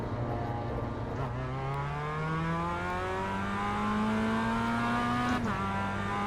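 In the iRacing sim, a race car pulls away on its out lap, its engine note climbing steadily through a long rising whine, then dropping at a gear change before climbing again, loud and continuous.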